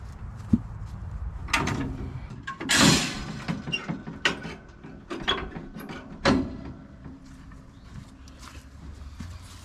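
Crank-driven landing gear on a gooseneck trailer being wound by hand, giving close, irregular mechanical ratcheting clicks and metallic clanks in uneven bursts over about ten seconds, with no talk.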